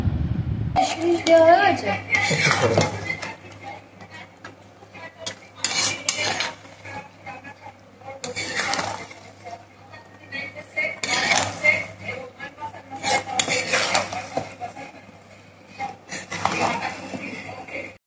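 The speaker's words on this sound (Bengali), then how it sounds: "চিকেনটার সাথে সম্পূর্ণ গ্রেভিটাকে ভালোভাবে মিশিয়ে নিতে হবে" A metal spoon mixes chicken into gravy in a pan, making intermittent scraping and clinking against the pan in bursts, with a faint sizzle underneath and a voice talking throughout.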